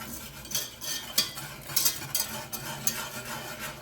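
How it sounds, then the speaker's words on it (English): A whisk stirs a roux of flour, butter and shrimp drippings in a pan, with quick metallic scraping strokes in an uneven rhythm over a soft sizzle. The sound is close and fairly quiet, and no one talks. "we just kind of want to whisk it a little bit"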